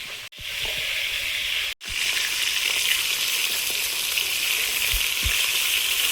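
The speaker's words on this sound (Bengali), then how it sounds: "মাছগুলো ভাজা হয়েছে, তুলে নেবো।" Fish caught from a pond fry in a pan with a steady, close hiss and crackle of oil that runs the whole time, broken by two brief cuts near the start.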